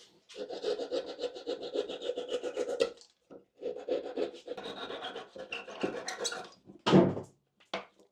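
A hand saw cuts wooden dowels flush with a joint in quick back-and-forth strokes, two bursts of rasping with a short pause between, followed by a couple of brief scrapes.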